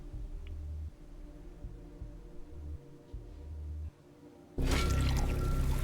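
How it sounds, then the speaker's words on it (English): In the Wasteland 2 video game, serum is poured into a reservoir and pumps begin flushing it through: a low rhythmic pulsing hum, then a sudden loud surge of rushing, gushing flow near the end. "You pour the serum into the reservoir and hear the pumps start to flush it through the system."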